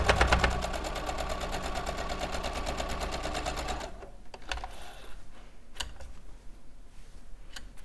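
A sewing machine running a straight stitch, with a steady rapid mechanical chatter for about four seconds that then stops, leaving quieter handling noises and a few sharp clicks.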